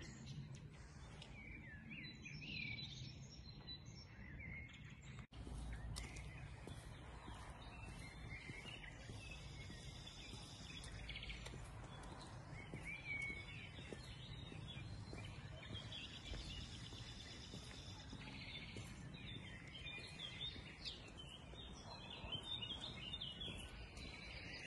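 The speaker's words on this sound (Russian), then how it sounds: "Сколько птиц, тут лес." Many birds chirp and sing in a forest, a busy layer of high calls scattered throughout, with faint background hiss and occasional distant voices.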